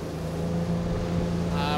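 An outboard boat engine drones steadily and loudly while the boat circles a fishing net in a wetland, a constant low hum running throughout.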